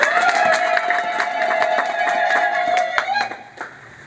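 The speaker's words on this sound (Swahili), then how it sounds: "jipigieni makofi mengi sana" A crowd of villagers at a community meeting in Nkunga, Rungwe, claps together in a loud burst of rapid, overlapping applause, with a voice running underneath, before fading out near the end.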